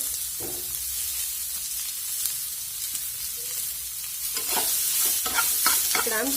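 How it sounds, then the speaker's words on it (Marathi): Chopped onion fries in a pan for a quick katachi amti, giving a steady soft hiss that turns into brighter sizzling and scraping stirs in the last couple of seconds, with no talk. "आता इथे कांदा पण आपण ब्राऊन होईपर्यंत चांगला भाजून घ्यायचा"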